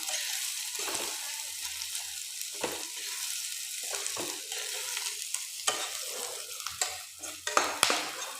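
Cumin and turmeric powder frying in a pan, a continuous close sizzle broken by repeated stirring scrapes of a spoon against the metal, growing busier toward the end, with no voices.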